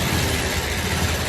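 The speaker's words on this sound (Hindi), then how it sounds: "ये अपाची स्टार्ट हो गई है।" A TVS Apache motorcycle engine idles right after starting, a loud close steady rumble with even low pulsing throughout the short stretch, no talk over it.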